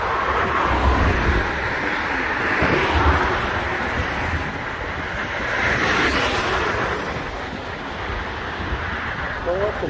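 Wind blowing steadily outdoors along a roadside lined with flowering acacia trees, a continuous rushing gust noise with slow swells in strength, loud and close on the microphone, with no clear voices.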